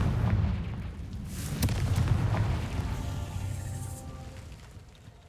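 Confringo explosion spell going off in Hogwarts Legacy, a cluster of deep booming blasts with sharp cracks and a rumbling tail that slowly fades.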